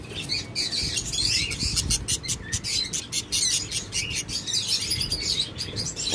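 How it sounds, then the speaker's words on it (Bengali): Budgerigars and Java sparrows at a bird seller's, a dense, continuous flurry of close, bright chirps and tweets overlapping steadily throughout, with no talking. "এই যে বাজরিগার পাখিগুলো দেখতেছেন"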